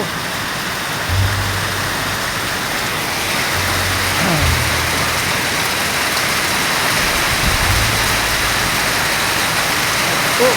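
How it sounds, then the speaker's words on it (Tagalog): Heavy rain pours down in a dense, constant roar, with a low engine-like hum rising and fading underneath at times. "Yan, lakas ng ulan talaga oh. Lakas ng ulan."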